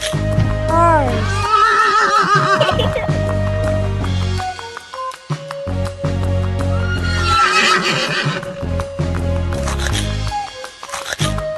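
A horse neighs loudly and close in a children's animal-names cartoon, a wavering whinny near the start, then music and other sounds continue for the rest of the stretch.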